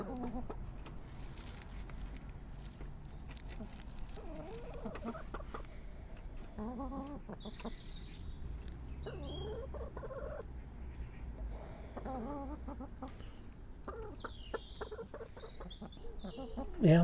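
Backyard chickens cluck and call in short, scattered bursts around a garden strawberry patch, close by over steady low background rumble, with no one talking.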